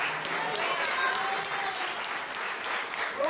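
A congregation in church claps in steady, sustained applause, a dense wash of many hands with voices mixed in beneath it.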